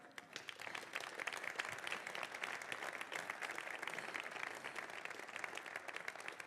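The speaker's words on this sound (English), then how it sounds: "I think this deserves an applause" A large audience claps at a public ceremony for a city's sports capital bid, producing dense, continuous applause with sharp individual claps audible, moderately distant and steady for several seconds.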